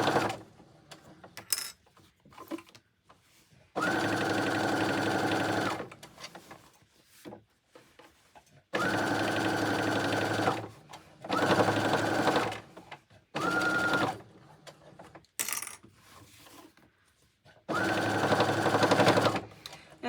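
A sewing machine stitches a tote bag in several sustained runs of a few seconds each, separated by quiet gaps with small handling clicks, close and clear, with no talking over the stitching.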